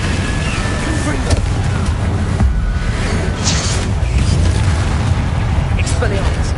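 The Confringo fire spell exploding in a Harry Potter video game, with loud, booming blasts and rumbling bursts that run continuously while a voice talks over them.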